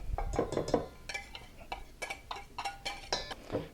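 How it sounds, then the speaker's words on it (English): Jalapeno corn dog batter being mixed in a bowl, a close, quick run of clicking and tapping as a utensil knocks against the bowl in an uneven rhythm. "Give this a good mix."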